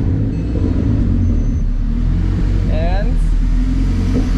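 An Acura RSX car engine idles with a steady low rumble, close and continuous, while a brief chirping whine rises near the middle.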